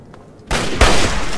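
Gunfire from Fallout 3 lands a headshot: a loud broadband blast bursts in midway, then a second, heavier shot with a deep thump follows and rings out into a sustained noisy tail.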